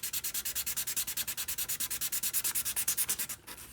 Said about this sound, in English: So when I go to sand, I will just sand